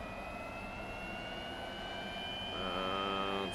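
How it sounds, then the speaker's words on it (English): An L-39 Albatros jet engine spools up during startup in DCS World, a steady whine and airy roar with rising tonal lines that grows louder and brighter in the final second. "let's start the engine. And while that's starting up, we're gonna go ahead and lock and pressurize."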